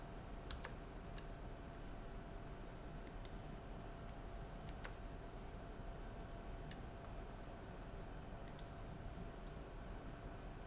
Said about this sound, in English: Now we're going to press our left arrow to return a list of previous directories.